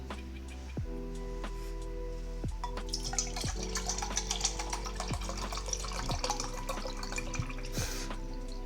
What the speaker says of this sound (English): let me get water.